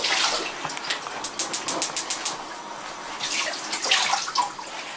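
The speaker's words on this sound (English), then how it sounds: "what we're going to do is rinse that off a little bit" A small piece of food is rinsed under a running kitchen tap, giving a steady, close splashing stream with brief rhythmic patters as the food moves through the water, and no speech.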